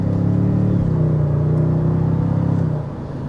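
A 2026 Toyota Sequoia Limited hybrid pulling away under light throttle, its engine a loud, close, steady rumbling drone with a motorcycle-like tone that eases off near the end.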